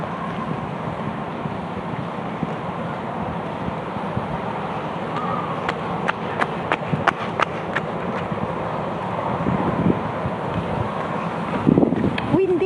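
Wind gusting outdoors at a beach resort, a constant rumbling buffet against the microphone, with people talking nearby and scattered clicks and footsteps toward the end.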